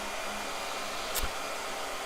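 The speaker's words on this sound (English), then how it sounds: "blow dryer" A blow dryer runs with a steady, even whoosh at moderate volume, broken by a brief click near the end.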